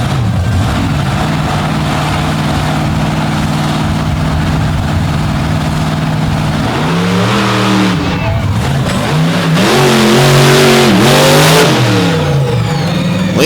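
A competition monster truck idles with a steady low drone, then revs hard in several rising and falling bursts, loud and close, with a voice briefly heard.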